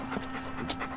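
A dog panting in short, rhythmic breaths at close range in a radio drama scene, with a faint steady hum underneath.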